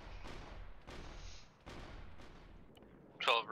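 Artillery rounds in a video game, heard as a series of heavy booms, about four rolling impacts in quick succession at moderate distance, with a brief sharper crack near the end.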